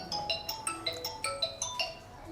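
A phone ringtone chimes during a math class, a bright repeating melody of short tonal notes in a steady rhythm, fairly faint and alone with no talk over it.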